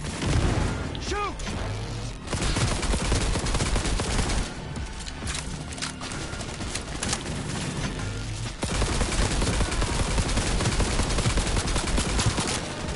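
Gunfire rattles through a Cyberpunk 2077 firefight, near-continuous automatic bursts with booms and impacts mixed with game audio, and a voice speaks briefly amid the shooting.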